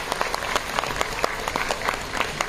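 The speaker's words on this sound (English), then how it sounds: "a round of applause to all the teachers who have made this possible" A crowd applauds steadily at a school annual day event, dense clapping filling the whole stretch at moderate loudness with no voices over it.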